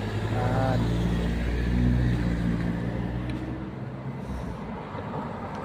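A BMW drives past on a South Korean street, a loud close engine and tyre rush that swells and fades into traffic noise, with a voice talking briefly at the start.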